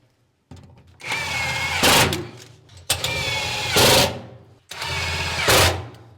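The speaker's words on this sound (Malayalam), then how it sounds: "ഇപ്പോൾ ഒന്നുകൂടി സ്ക്രൂ അടിച്ച് ആക്കട്ടെ" A power drill drives screws into a folding table bracket for a small study area, three sustained whirring bursts of about a second each that rise in pitch and cut off, close and loud with short pauses between.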